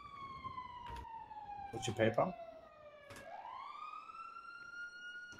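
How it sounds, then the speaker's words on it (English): Emergency sirens wail in the background, a steady falling and rising tone with clear harmonics. A person talks briefly over them partway through. "I can hear some sirens."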